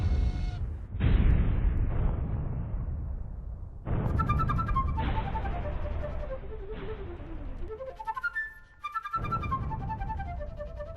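Revolutionary War cannons firing far off: a series of dull low booms at irregular intervals, some trailing off with a falling rumble.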